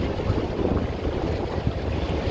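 Amphibious duck tour boat on the Galveston tour cruising through water, a steady loud rush of engine, wind and splashing with no talk.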